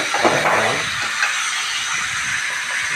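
Onions and tomatoes fry in a pan for Tamil-style fish curry, giving a steady close sizzling hiss that continues evenly for a few seconds.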